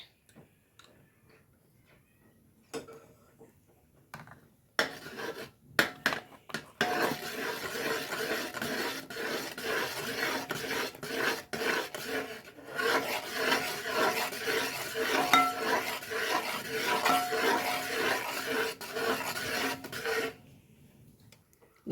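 Banana payasam stirred in a pan with ghee, a rhythmic close scraping and rubbing of spoon against the pan that starts sparse and then runs steadily for most of the clip before stopping.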